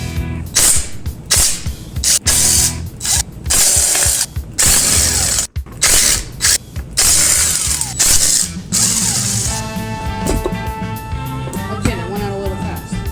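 A ratchet wrench works on a go-kart engine, taking off the coil and opening the case. Quick bursts of close mechanical clicking come in repeated pulls, then give way near the end to a ringing metallic whine.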